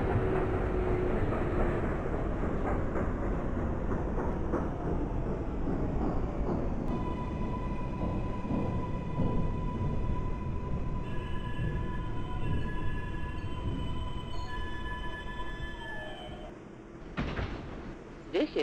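An MTA F Express subway train in the openBVE train simulator game, a loud continuous rolling rumble with steady tones entering partway through, then a few sharp door-like clunks near the end.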